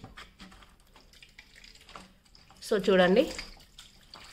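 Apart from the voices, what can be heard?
water flowing out of front-load washing machine drain filter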